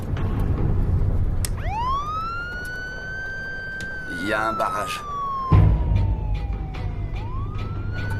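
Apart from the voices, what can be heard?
police car siren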